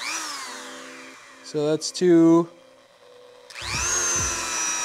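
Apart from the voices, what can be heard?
Dremel rotary tool with polishing wheel running at full speed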